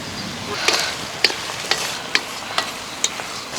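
Eggplant sizzling as it fries in a pan with salt and turmeric, several sharp scraping clicks as a spoon stirs it at a steady pace, close and fairly quiet.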